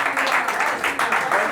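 A short burst of audience applause after a Hindi poetry recitation at an open mic, steady clapping from a small crowd that stays fairly level for the whole moment.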